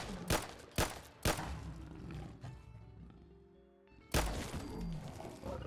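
Pistol shots fired at a Deathclaw in Fallout 4, modded lore-friendly little pistol: three sharp cracks in quick succession, then a pause and a fourth heavier report, with growling creature sounds between.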